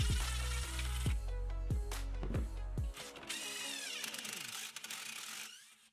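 A power tool works seized chain adjuster bolts out of a motorcycle swing arm, starting with several sharp, descending revving bursts and then settling into a sustained, grinding whir that fades out near the end.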